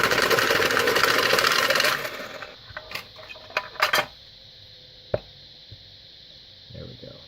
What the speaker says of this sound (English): we're just introducing a little bit more randomness into the shuffle here